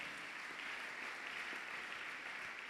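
Steady applause from a church congregation fills the space, continuous and moderately loud, with no talking over it.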